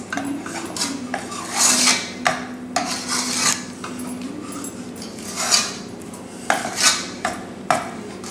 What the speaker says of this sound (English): stir it so that it's mixed thoroughly